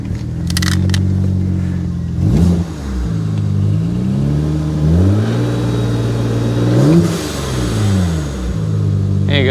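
A warmed-up BMW E30 fitted with an N54 engine, suffering a blue exhaust smoke problem, gets repeated blips of throttle, its engine note jumping up and falling back several times over a low idle.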